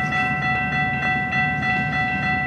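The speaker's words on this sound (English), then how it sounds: "it's CN Westbound Train coming" A CN westbound mixed freight train rumbles close by with rhythmic clacking of wheels over the rails and a sustained whining, tonal hum.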